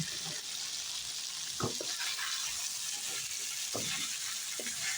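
Sweet pumpkin fries with shrimp in oil, making a constant soft sizzle with a few scrapes and knocks of a stirring utensil against the pan.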